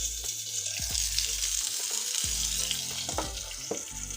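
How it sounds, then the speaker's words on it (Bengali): Sliced food fries in a hot pan with a continuous close sizzle, punctuated by low clanks and scraping stirs of a utensil against the pan. "তাহলে আমার আরও কিছু ভাজা আছে, সেগুলো ভেজে নিচ্ছি।"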